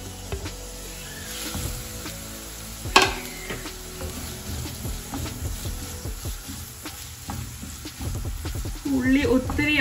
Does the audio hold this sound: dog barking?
no